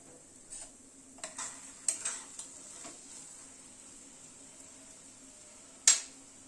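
Sugar is stirred into a Bengali eggplant bharta with roasted sesame and crushed peanuts: soft, sparse scraping taps of a spoon in a bowl, close and quiet, ending in one sharper clack.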